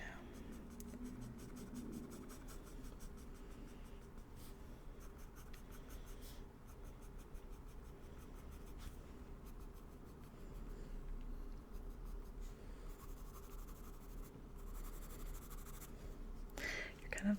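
Soft, continuous scratching of a pencil on paper while shading a portrait's eyebrows, faint and close, with occasional quiet shifts and a low room hum underneath.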